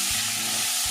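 Chopped onion sizzles in hot oil in a pan while cooking a Nepali vegetable thali, a loud, steady hiss of frying close up with no talk.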